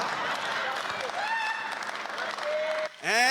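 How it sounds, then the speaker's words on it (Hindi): Audience at a Hindi comic poetry gathering breaking into applause, crowd clapping mixed with voices and a rising tonal sweep, with a brief dip before a loud burst at the end. "ताली बजा रहे हो"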